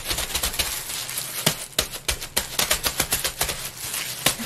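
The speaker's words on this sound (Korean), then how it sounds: "떡을 좀 때려서요." Sticky rice cake (tteok) dough being beaten by hand, a series of irregular slapping thumps, close and fairly loud, with no talking.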